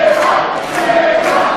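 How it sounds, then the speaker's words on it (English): A boxing crowd at a PA Regional Championship bout cheers and roars for J-Rocc, a dense, steady wall of voices and shouts swelling slightly near the end. "This crowd getting behind J-Rocc."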